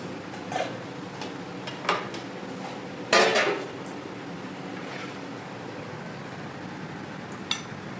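Dal lentils go into a cooking pot for a vegetarian Monday lunch: scattered light clinks of utensils, then one short, splashy burst as they drop in. The sound is quiet and close, with no talking.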